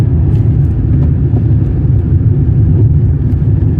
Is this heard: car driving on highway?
yes